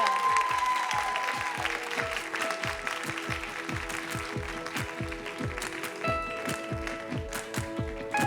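Loud, dense applause from a large audience fills the room, steady and sustained for several seconds with no talking over it.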